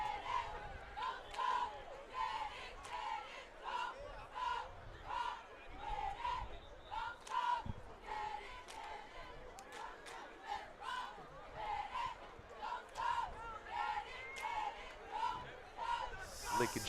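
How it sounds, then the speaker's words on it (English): Lincoln high school cheerleaders chant in rhythmic, repeated shouts at a football game against Canarsie, heard from a distance in a crowd, with a commentator talking over them. "Lincoln cheerleaders are cheering us on here, cheering the team on."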